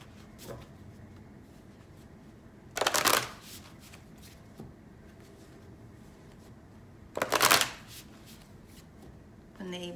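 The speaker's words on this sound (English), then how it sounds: "let's use a different deck because this deck isn't willing to shuffle right for me" A tarot deck of Seven Energies cards is shuffled in two short, crisp riffling bursts a few seconds apart, close by and otherwise quiet, with a voice starting to talk at the very end.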